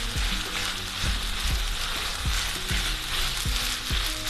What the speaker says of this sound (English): we're gonna mix that in well